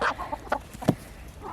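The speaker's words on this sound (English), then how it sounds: "Here are our 14 baby chicks that my friend gave us after they hatched them last December." Fourteen baby chicks, hatched in December, make soft, close peeps and clucking chirps in a few short bursts with quiet gaps between them.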